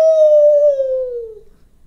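A human voice imitates a dog howling at a siren: one sustained, falling "awoo" tone that is loud and close and fades out over about a second and a half.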